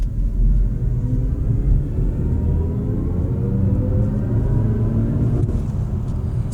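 A BMW i5 eDrive40 M Sport electric sedan accelerating, heard as a steady low rumble of road and tyre noise with a faint rising motor whine; no talking.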